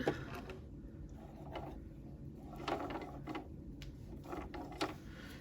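Top thread being rethreaded on a sewing machine during quilt construction: soft, close clicks and ticks from the machine's tension and guide mechanisms, sparse and irregular over a low steady hum.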